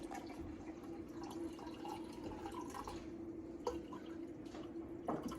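Water is poured steadily into a measuring cup for bread dough, a soft continuous trickle with a few small drips, faint and close, with no talking.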